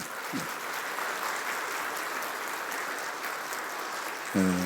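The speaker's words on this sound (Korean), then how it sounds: "박수해 주시기 바랍니다" A church congregation applauds for a welcomed guest during a worship service, a broad steady wash of clapping lasting the whole stretch at moderate, roomy distance, with a brief tonal sound rising at the very end.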